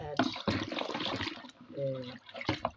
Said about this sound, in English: So like I will just continue to add water.